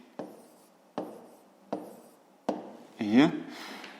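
A pen writes numbers while a fifth-grade math exercise is solved, giving four evenly spaced short scratchy strokes followed by a longer scribble, close and quiet.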